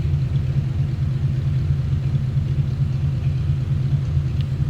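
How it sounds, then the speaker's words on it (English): A 1951 Ford Custom two-door street rod with a flathead engine and dual exhaust idles nearby, a steady low rumbling drone with no talk over it. "That sounds like a flatty underneath the hood."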